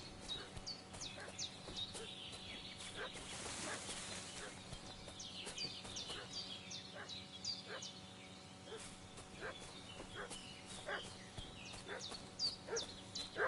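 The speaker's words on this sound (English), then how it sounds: "What's that dog making such a fuss about?" Dog barking excitedly in a video game, repeated short yips and barks scattered over a steady game soundscape with birdsong-like chirps and a low hum, moderately loud throughout.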